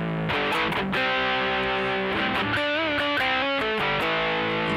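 Electric guitar run through a distortion effect programmed on a Sigma DSP ADAU1452 board, sustained overdriven chords and bent notes ringing loud and continuous with no talking.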